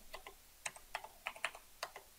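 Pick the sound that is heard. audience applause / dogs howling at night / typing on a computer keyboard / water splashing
typing on a computer keyboard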